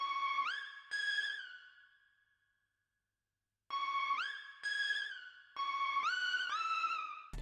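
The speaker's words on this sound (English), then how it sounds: "Moving on to the synth, which sounds like this." A quiet synth texture from an FL Studio vocal sample plays short tones that bend upward in pitch, with a silent gap in the middle before more gliding notes follow.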